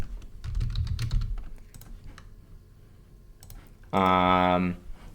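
Computer keyboard typing in short bursts of quick clicks, fairly close and moderately loud, with a pause and then a brief tonal sound near the end.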